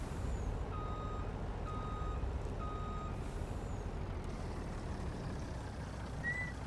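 Repeated reversing beeps sound at a steady pace from a truck backing up a trailer in the farming video game Farming Simulator 19, heard over a constant low engine rumble, with a brief air-brake hiss near the end.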